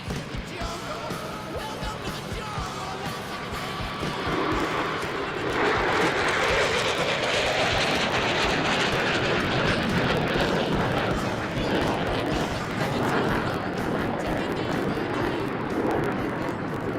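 Fighter jet, an F-35A, making an inverted pass at the Farnborough airshow: a loud, sustained broadband engine roar that swells and stays heavy as the aircraft passes nearby.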